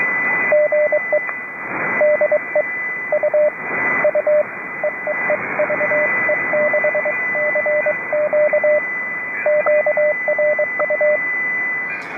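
Morse code CW tones pulse steadily in dot-and-dash patterns over an amateur radio net on 3729 kHz, a clear pitched beeping riding on constant band hiss and a thin carrier whine, with brief static bursts.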